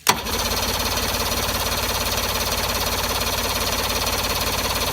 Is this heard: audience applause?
no